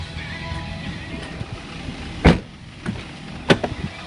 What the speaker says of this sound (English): They've got power windows also back here